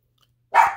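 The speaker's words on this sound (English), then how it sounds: "Apologize for the barking." A single short, loud dog bark close by, sharp and sudden after near silence, indoors where trading cards are being opened.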